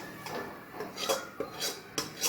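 Cooked carrot halwa being scooped from a pan onto a ghee-greased plate, with a few distinct metal scraping and clinking strokes against the utensils, close and fairly quiet, spaced irregularly with no talking.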